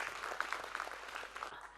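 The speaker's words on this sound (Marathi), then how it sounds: "एकदा जोरदार टाळ्या सियाचनच्या मुलांसाठी" An audience in a lecture hall claps for Siachen soldiers, dense and sustained, fairly faint and heard from a distance.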